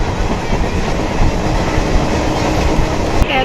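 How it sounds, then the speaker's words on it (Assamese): A passenger train on the Guwahati to Darjeeling route runs along the rails, heard from inside the carriage as a loud, continuous low rumble with rhythmic wheel clatter, steady throughout with no voices. "ফাইনেলি ট্ৰেইনত বহিলো"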